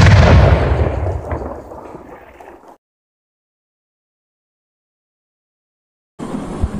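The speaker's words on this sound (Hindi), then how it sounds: "भाई बहुत बड़ा धमाका हुआ" A large Diwali firework rocket explodes with a loud boom and a rumbling, decaying roar that fades over a few seconds, followed by silence and then a sudden burst of noise.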